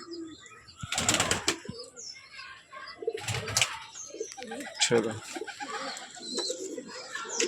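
Pigeons coo softly nearby, with loud bursts of flapping wings, while a person speaks now and then about standing, golden, Rampuri and Teddy pigeons for sale.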